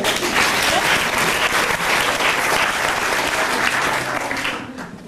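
Audience applause rings out loud and dense, a sustained burst of clapping that tapers off toward the end.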